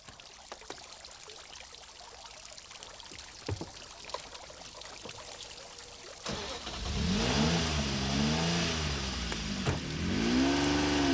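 A Jaguar XJ220 supercar drives by, quiet at first, then its engine swells loud and close about halfway through, revving up and down in long rising and falling sweeps.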